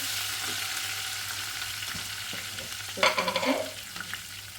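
Small onions and coriander leaves frying in a pan give a steady, close hiss, with a brief burst of louder sizzling and stirring clatter partway through, then settling back to an even crackle.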